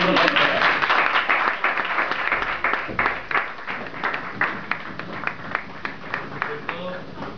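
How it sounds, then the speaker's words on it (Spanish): A live audience applauds a first-prize-winning artist at a Falla sketch presentation in Valencia. The clapping is dense at first, then thins to scattered claps and fades, with voices audible underneath. "Venga, un aplauso."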